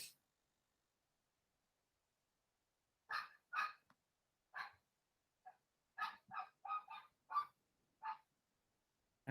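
A dog barking in a series of sharp, separated yelps, a pair early and then a rapid cluster of about six, faint and distant in an otherwise quiet room, with no talking.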